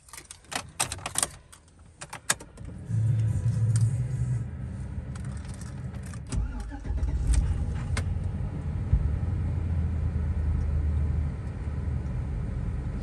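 A 2007 Chevrolet Silverado truck engine starts after a few clicks and key rattles, then settles into a steady, close, low idle rumble that continues throughout.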